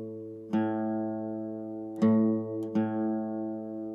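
Three plucked guitar notes played in turn and left ringing, sustained tones compared one after another, with a string tuned slightly flat.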